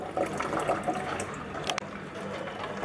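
A Khaitan Aqua 60 submersible pump for a water cooler, fountain or aquarium lifts water to about 1.65 meters, and the outflow makes a steady, moderate splashing trickle with no pauses.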